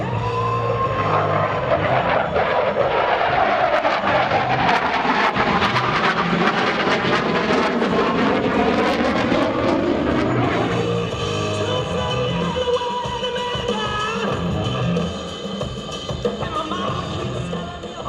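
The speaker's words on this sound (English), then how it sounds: "With incredible precision, watch as the Hornet completes 4 90-degree turns to complete this maneuver." A CF-18 Hornet fighter jet flies demonstration maneuvers at a military airshow, its engine a loud, continuous roar that rises and sweeps in pitch as it turns, then settles into a steady distant rumble.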